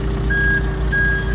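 A backhoe's reversing alarm beeps loud and close, two steady tones over a deep idling engine rumble.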